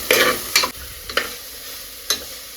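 Ginger garlic paste frying in a pot for chicken biryani is stirred with a few sharp scraping strokes over a soft sizzle.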